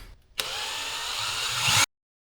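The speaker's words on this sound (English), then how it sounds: "So I'm going to go ahead and start drilling more holes." A power drill whirs steadily for about a second and a half after a brief quiet moment, loud and close, drilling holes in a Jeep XJ frame, then cuts off abruptly.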